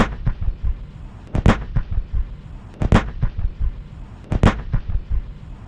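Heavy artillery booms from a Chinese PLZ-05 self-propelled howitzer, three big blasts roughly evenly spaced, with smaller rumbling thuds and echoes between them.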